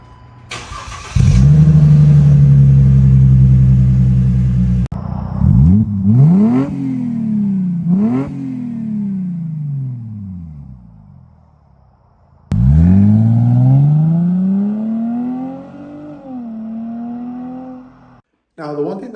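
A Mercedes C300 with the M272 V6 and a custom double H-pipe exhaust running two resonators instead of mufflers starts up, idles, then revs repeatedly in sharp rising blips before settling, loud and close, with a voice speaking over parts.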